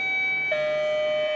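A Mutlusan electric doorbell sounds when its button is pressed: a steady electronic tone that shifts pitch halfway through, like a two-note chime, clear and close with no speech.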